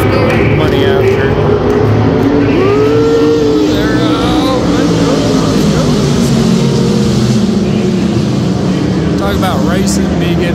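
Dirt track race cars roar loudly and continuously, with engine pitch rising and falling as the pack runs around the track and voices sound faintly beneath.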